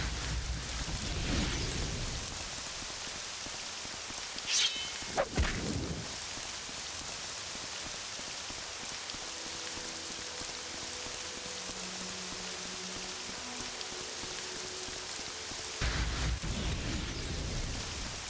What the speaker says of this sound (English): Get that rain out of my ears.